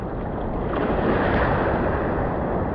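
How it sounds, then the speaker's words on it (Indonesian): Ocean waves roll onto a shore where cast-net fishing takes place, a steady broad wash of surf swelling gently and staying loud and close, with some wind buffeting the microphone. "Oh, ni ombak mari lah."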